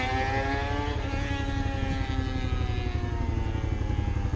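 A loud motorcycle with its exhaust baffle removed drones close by in town around Val d'Europe, a continuous rough engine roar whose pitch sags slightly as it carries on.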